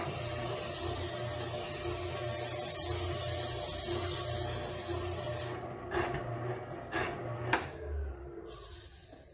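Big rubber cleaning eraser rubbed against a dirty, worn 100-grit sanding belt running on a powered sander; a loud continuous rasping hiss that drops away partway through, followed by a few scuffing rubs and a sharp knock.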